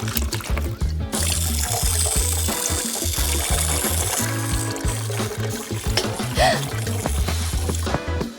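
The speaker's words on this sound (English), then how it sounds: "Let's add a cat water fountain." A cat water fountain runs with a steady trickle and splash of flowing water, mixed with a continuous low pump-like hum and other background noise throughout.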